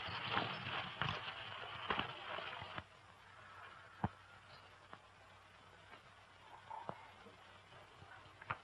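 Horses' hooves clop on the ground in an old Western film, a few loud hits at first and then sparse, fainter steps, with no talk heard.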